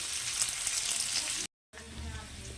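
Potatoes sizzle loudly in a pan for egg curry, a dense, close, continuous hiss of frying that cuts out briefly before the crackle resumes.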